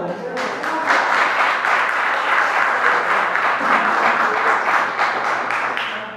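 A church congregation breaks into sustained, loud applause that fills the room, a dense, even wash of clapping lasting several seconds.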